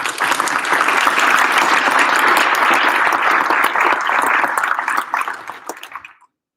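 An audience at a military pilot training graduation ceremony claps in loud, sustained applause that fades away after several seconds.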